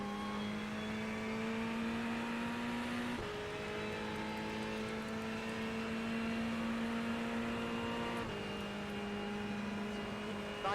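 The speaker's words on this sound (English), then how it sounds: "I'll have a run in this Ferrari for sure." Inside the iRacing video game, a Ferrari 488 GT3 race car engine drones steadily at high revs, with a couple of brief pitch drops at gear changes before it climbs again, fairly faint and with no talking.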